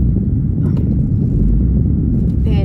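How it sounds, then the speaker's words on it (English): Car interior while driving through heavy Sydney city traffic, a loud, steady low engine and road rumble with faint brief noises from outside. "I'm just driving home in the terrible Sydney traffic"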